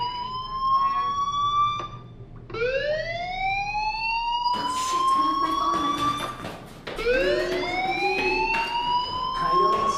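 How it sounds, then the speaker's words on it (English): A fire alarm in Life Is Strange wails in rising electronic sweeps that restart several times, loud and continuous across the whole stretch with no talk over it. "do you hear that fire alarm?"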